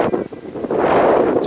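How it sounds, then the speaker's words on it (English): Strong wind buffets the microphone on a hilltop beside an old stone tower, a continuous rough roar with gusts that swell louder partway through, and no voice heard. "It's very windy too."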